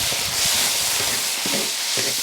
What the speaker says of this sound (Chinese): 姜蒜儿、泡椒放进去炒